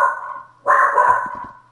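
A dog barks nearby with one sharp, loud bark and a short trailing yelp over a steady electronic tone from a video game session.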